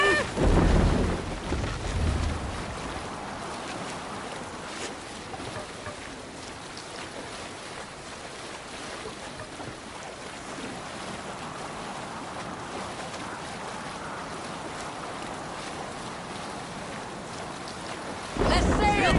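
A sailing boat at sea in the video game Assassin's Creed Valhalla, with a steady roar of wind and rushing water around the hull that holds at an even level for the whole stretch and swells briefly at the start and end.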